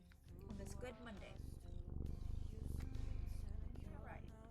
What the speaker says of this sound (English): Micey says, it's Monday, I will purr at you.